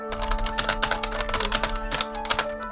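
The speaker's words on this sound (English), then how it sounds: "So here's the actual keyboard. It feels fine. It's not like super duper mechanical," Rapid, steady typing clatters on the non-mechanical keyboard bundled with an MSI Trident 3 gaming PC, close and continuous over a low electrical hum and tonal background.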